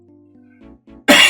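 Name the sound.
cough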